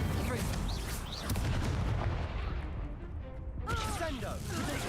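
An Incendio fire spell being cast in the Hogwarts Legacy video game: a loud, continuous whooshing blast of flame amid combat noise, with a voice speaking briefly.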